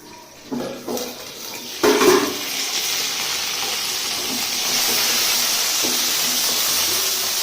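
Water in a cooking pot on the stove hisses and sizzles steadily with a broad bubbling steam noise, a few clinks and stirring knocks early on, then a continuous hiss that grows a little louder.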